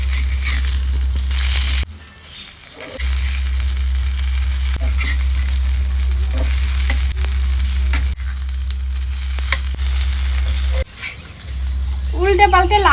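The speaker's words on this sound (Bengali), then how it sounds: "উল্টে পাল্টে লাল করে ভেজে নিয়েছি," Taro leaf rolls filled with lentils frying in oil in a pan, a loud continuous sizzle near the microphone that briefly drops out twice, with a voice faintly present near the end.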